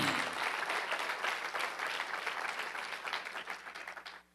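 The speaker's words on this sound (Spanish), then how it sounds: "Dale un aplauso al Señor." A church congregation gives a round of applause to the Lord, many hands clapping in a full, lively burst that gradually loosens and tapers off toward the end.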